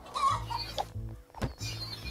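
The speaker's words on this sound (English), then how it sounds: "I heard the chicken from here." A cartoonish chicken from the video game Party Panic clucks in short bursts, loud and close, with brief pauses between calls and no speech over it.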